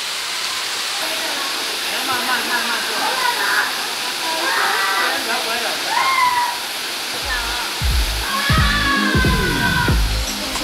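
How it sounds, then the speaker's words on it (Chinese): The second tier of a waterfall roars in a steady, broad rush of falling water nearby, with a person speaking briefly and faint higher chirping sounds over the continuous torrent. "带大家用更近的角度看这个瀑布，分多清，很舒服。"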